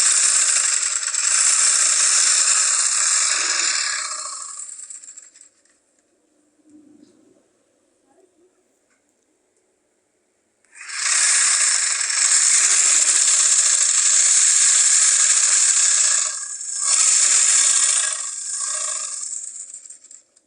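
A sewing machine stitches skirt panels together in two long bursts of fast, whirring rattle, close and loud, separated by a quiet pause with faint handling sounds.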